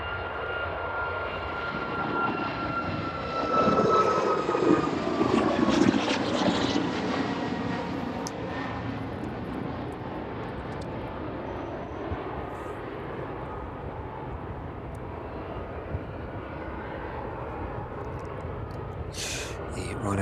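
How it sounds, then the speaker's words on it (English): A Ryanair jet bound for Tenerife roars steadily as it departs from runway 27 at East Midlands Airport in the evening, a long continuous engine rumble swelling briefly, heard from a distance. "The Ryanair service out to Tenerife there this evening. One departing to runway 27 very quickly this evening indeed"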